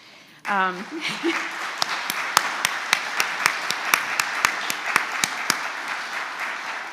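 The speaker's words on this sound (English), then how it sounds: "I want us all to applaud for Chris Jones" Audience applause for Chris Jones at a science symposium session, a steady broadband wash of many hands clapping with sharp individual claps standing out, rising after a brief voice at the start and sustained to the end.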